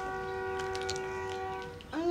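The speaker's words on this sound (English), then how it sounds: "Train again." A train horn sounds a sustained, steady multi-tone blast from a passing train, with rumbling background, before a voice cuts in at the end.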